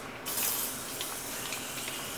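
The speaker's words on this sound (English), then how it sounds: "So I'm just going to spray my hair" A short burst of spray from a pump bottle misting hair, close by, followed by quieter hissy room noise.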